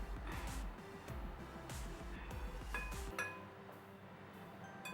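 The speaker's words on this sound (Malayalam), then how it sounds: "ഇനി നമുക്കിതെല്ലാം കൂടെ ഒന്ന് മിക്സ് ചെയ്ത് കൊടുക്കാം." A spoon clinks and scrapes against a bowl while dry pakora batter ingredients, including salt and baking soda, are stirred together, giving close, repeated metallic taps and rattles with no talking.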